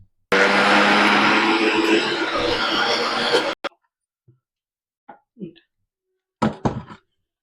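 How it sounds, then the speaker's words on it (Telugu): A kitchen mixer grinder churns cream with ice water into butter, a loud dense whirring roar for about three seconds that stops abruptly, followed by a few faint knocks and thumps. "ఐస్ వాటర్నే మిక్స్ చేసుకొని మిక్సీలో మనము దీన్ని బాగా ఒక టూ త్రీ మినిట్స్ తిప్పితే వెన్న మనకు బాగా వస్తుంది"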